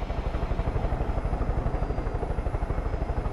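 A helicopter in the video game Far Cry 5 runs steadily with a loud, continuous rotor chop and engine drone, a rapid, even thumping pulse that holds without a break.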